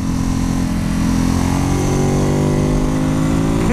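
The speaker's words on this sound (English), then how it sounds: "You've got to really use the revs on this bike to get the most out of it." A 110-horsepower Ducati Supersport 950 engine revs hard and climbs in pitch, a loud continuous roar with rising harmonics throughout, close up.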